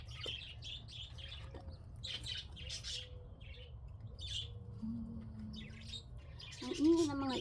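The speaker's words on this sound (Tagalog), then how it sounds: "Ang ingay ng mga ibon ko ay" Small birds chirp and tweet in bright, scattered bursts against a low background hum, with a louder squawking call near the end.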